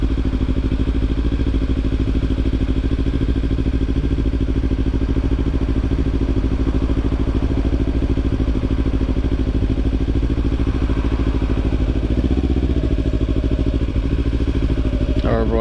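Kawasaki Ninja 300 motorcycle being ridden, its engine droning steadily and loudly throughout under heavy rushing wind noise, with no clear shifts in pitch.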